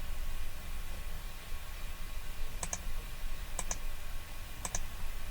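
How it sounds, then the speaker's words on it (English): Computer mouse clicking while drafting lines in a CAD drawing program: three pairs of quick, crisp double clicks spaced about a second apart, fairly close over a steady hiss of background noise. "Again I have to click this option."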